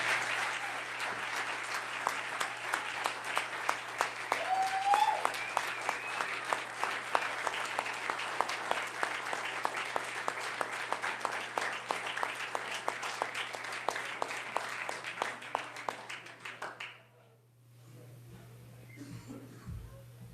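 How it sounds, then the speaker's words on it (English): A church congregation applauds graduates of a Stepping Stones program with sustained, moderately loud clapping and a few brief vocal lifts, then fades out near the end into quiet room noise. "let's give a round of applause not only for the graduates"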